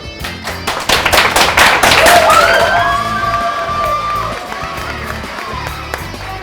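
A student cooking-competition audience cheers and claps as the chefs walk in, a burst of dense applause with whoops and a sustained shouted cheer that fades toward the end.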